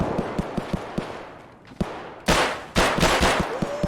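Gunfire in Escape from Tarkov: loud, close bursts of automatic fire and single sharp shots in quick succession over a rhythmic run of softer thuds, no talk.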